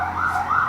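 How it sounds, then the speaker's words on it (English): An ambulance siren wails in a steady rising and falling tone, moderately loud and alone with no talking, as the vehicle passes by. "Ambulance passing by"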